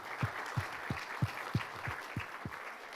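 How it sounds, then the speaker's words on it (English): A small audience at a business talk on entrepreneurship through acquisition gives a sparse round of applause, with a few distinct claps landing at a steady rhythm over a soft background patter. "so let's give her a big round of applause."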